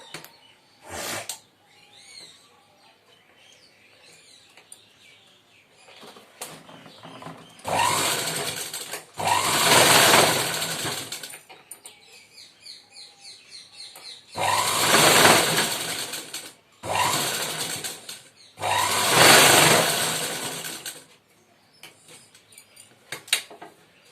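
Sewing machine stitching puff sleeves with potli buttons, running in several loud bursts of a few seconds each, separated by quiet pauses with faint handling noises.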